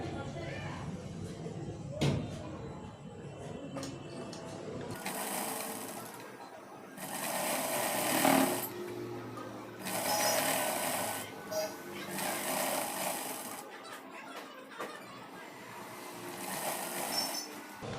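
Sewing machine stitching cloth in a beginner tailoring class, running in several loud bursts of rapid mechanical chatter separated by short pauses, near and clear, with quiet handling sounds in between.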